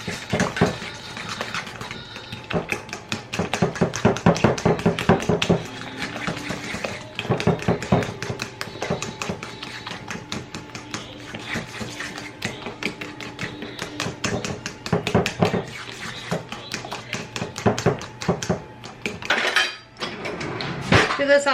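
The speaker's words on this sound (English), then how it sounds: "I'm going to stir all this together." Wet ingredients stirred together in a bowl, a busy run of utensil clinks and scrapes against the bowl that keeps going with steady rhythm, close and fairly loud.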